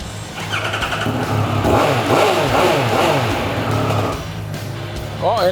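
A motorcycle revs and rides past nearby, its engine note climbing and sweeping in pitch as it passes, loud and steady before easing off, with a brief rev at the end.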